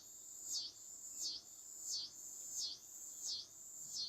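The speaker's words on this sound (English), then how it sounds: "I don't know if it's the crickets," Crickets or cicadas chirp on a summer evening in a steady rhythmic pattern, a high pulsing trill repeating roughly every two-thirds of a second, faint and distant against quiet surroundings.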